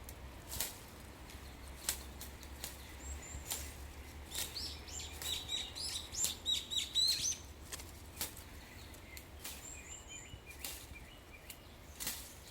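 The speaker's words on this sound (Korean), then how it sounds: "새소리도 나고" Birds chirp and call outdoors in a tea field during organic green tea leaf picking, with short bright twittering bursts scattered over a few seconds among soft rustling and wing-like flutters, moderately distant and faint.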